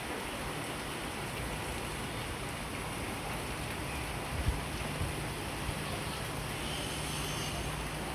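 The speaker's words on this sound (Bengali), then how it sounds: "আমি ব্যালকনি থেকে তুলতেছি, প্রচুর বৃষ্টি পড়তেছে" Heavy rain seen from a balcony makes a dense, even hiss of falling drops, moderately distant and continuous, with a few faint knocks and a low background hum.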